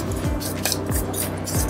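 A salsa with lime juice being mixed in a bowl, with steady wet squishing and repeated light clinks of a utensil against the bowl, fairly close and continuous, no voices.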